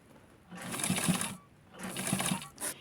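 A sewing machine stitches a small doll dress in two loud bursts of rapid whirring needle strokes, separated by a pause, then a brief final burst.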